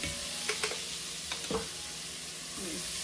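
A tablespoon of minced garlic sautéing in a pot for beef short ribs, a soft continuous sizzle with a few scraping stirs of a utensil, fairly quiet.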